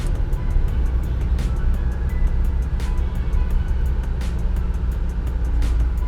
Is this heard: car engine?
yes